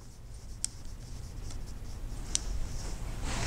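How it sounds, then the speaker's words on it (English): Steady scraping friction from sharpening shears runs continuously as the blade edge is worked on a sharpening tool to remove the burr, with a few faint ticks of metal contact, close and moderately quiet. "Go over it once more and cut the burr off."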